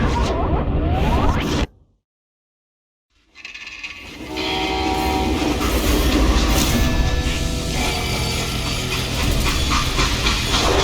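Freight train in a Western shooter video game, heavy rolling rail rumble with clanking wagons, loud and continuous, broken by a sudden silent gap before the roar resumes.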